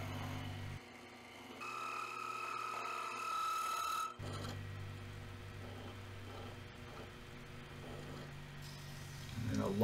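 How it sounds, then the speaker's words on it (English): A turned wooden knob for a Stanley hand plane is lightly sanded on a lathe. A soft, steady rasping rubs under a constant machine hum, with a voice speaking over it. "Light sanding just to try to get some of those deeper scratches out."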